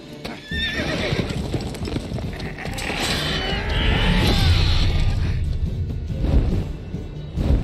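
Horse in the video game Witcher 3 whinnies and neighs loudly with steady clip-clop hoofbeats running through, a close, busy game soundscape with no talk.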